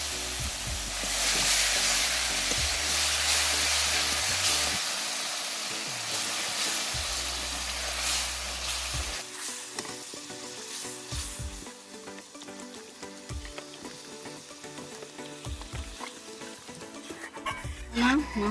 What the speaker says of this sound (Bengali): আর আমি মশলার মধ্যে জল দিয়ে দেবো।